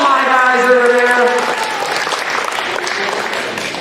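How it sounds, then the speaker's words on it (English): Applause for student knights at a school assembly: a sustained crowd clapping that starts under a speaking voice and then carries on alone, steady and moderately loud. "Let's give it 3 times the applause."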